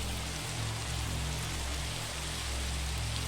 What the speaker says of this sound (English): and now it has started to rain